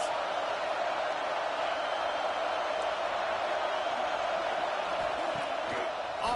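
A large crowd at a college football stadium roars steadily in support of the defense on a big third down, a dense sustained cheer with scattered whoops and no clear break.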